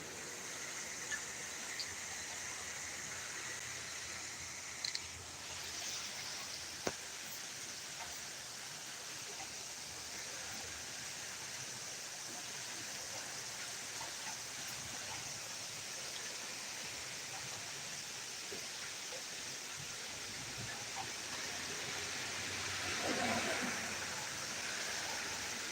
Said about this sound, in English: Now that wind is starting to blow pretty hard.